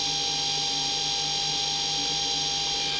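A G0704 milling machine spindle running steadily at 3000 RPM gives off a constant, even machine whine with a fine tonal hum, fairly faint and unchanging throughout, with no talking.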